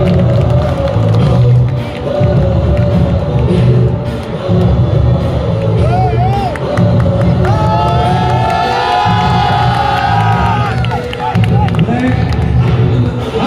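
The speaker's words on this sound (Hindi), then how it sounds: "जोरदार ताली हो जाए" Loud crowd cheering, whoops and applause at a big Congress party political rally, swelling in pulsing bursts with whistles and shouts over a thick roar of voices.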